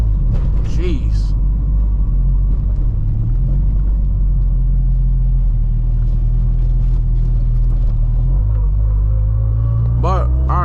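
A 600 HP Honda Civic Si drones with a steady, deep engine rumble from inside the cabin while driving, with a brief rise in pitch near the end and a voice talking over it.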